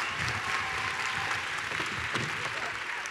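An audience claps throughout an opening address for a tech event, a continuous wash of hands at fairly even loudness with no clear break.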